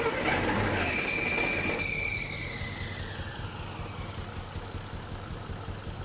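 An old engine that sat unused for 30 years idles on its own with a steady, fairly loud low rumble. A brief higher whine fades out in the first two seconds, and no one talks.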